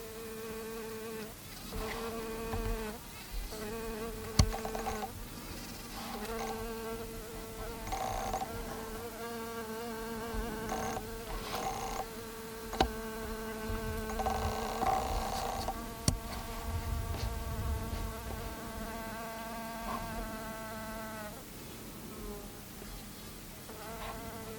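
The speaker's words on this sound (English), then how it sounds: "you can hear her buzz pollinating these flowers when she lands upside down" A Habropoda bee buzz-pollinates manzanita flowers, clinging upside down to shake pollen loose. A steady, harmonic, droning buzz runs close and continuous for the whole stretch, with small surges and wavers in intensity.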